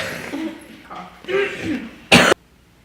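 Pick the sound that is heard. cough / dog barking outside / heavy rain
cough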